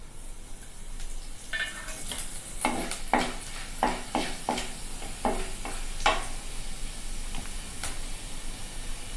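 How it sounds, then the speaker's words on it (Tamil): Spices hit hot coconut oil in a pan for tempering, crackling and sizzling in bursts over a steady faint hiss, close and fairly quiet, with no talking. "இப்போ நம்ம தாளிக்க எடுத்து வச்சுருந்த எல்லாத்தையும் போட்டுக்கலாம்."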